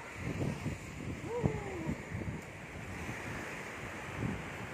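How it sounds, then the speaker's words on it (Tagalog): Waves wash and roll onto a beach with steady wind buffeting the microphone; a faint voice briefly rises in the middle. "I'm here in the beach. Ito na ako sa dagat."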